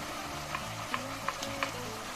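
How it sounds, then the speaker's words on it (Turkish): Onion and garlic finely chopped and tossed into a pan, sizzling steadily while a utensil stirs them, with a few soft scraping clicks spaced about a second apart, close and moderately quiet. "Bunları döküp bir de bu şekilde kavuruyorum."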